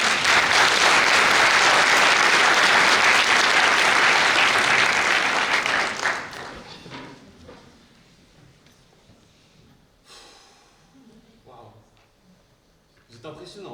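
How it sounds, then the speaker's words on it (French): Loud, dense applause from an audience at a student eloquence contest, sustained for about six seconds before fading into scattered murmurs and faint shuffling, with a brief swell near the end. "Un tonnerre d'applaudissements pour Raphaël."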